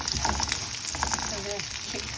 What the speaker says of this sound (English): I'm going to fry these until they get really crispy